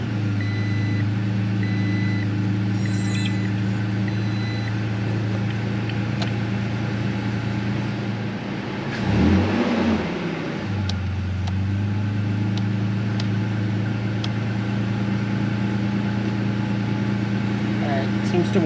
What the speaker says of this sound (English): we're gonna start the car, make sure it still works.